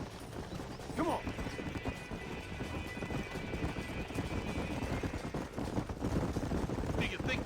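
Horses galloping in the Red Dead Redemption video game, a steady run of hoofbeats with a brief whinny near the start, loud and close amid game ambience.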